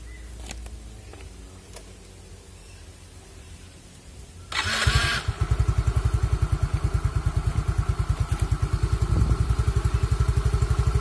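An automatic scooter engine cranks and catches after a quiet stretch, then settles into a steady, close, pulsing idle that carries on to the end.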